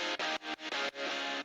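A few short chords on electric guitar through a Harmonic Percolator fuzz pedal, buzzy and saturated, choppy stabs followed by one longer sustained chord that cuts off.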